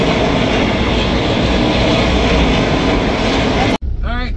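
An ARCA stock car race at Bristol roars as a loud, steady, dense wall of engine noise that cuts off abruptly near the end, followed by a brief voice.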